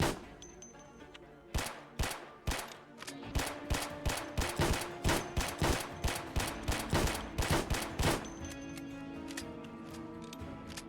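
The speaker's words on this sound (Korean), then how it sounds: "여기 총소리 들려서 오네 밑으로" Loud, rapid volleys of video game gunfire crackle in close bursts, stopping briefly and then resuming, with no talking.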